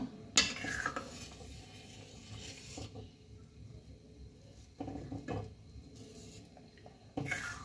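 Sugar stirred into milk in a pot yields quiet swirling and scraping, broken by a few sharp metallic clinks of a spoon against the pot, spaced out and near, with no voices.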